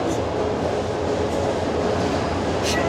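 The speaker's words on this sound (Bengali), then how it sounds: "দেখুন ট্রেন ছেড়ে দিল।" A passenger train, the Kurigram Express, rumbles at a station platform with a loud, continuous low roar of wagons and wheels, steady throughout and close by.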